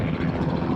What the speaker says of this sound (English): there is a plane flying over my head